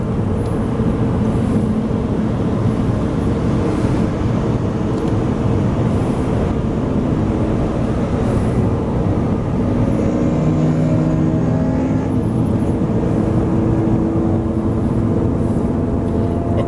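Cabin noise inside a BMW 730Li sedan on the move, on a rough road, a steady, enveloping rumble of road and engine noise that stays constant throughout with no voices.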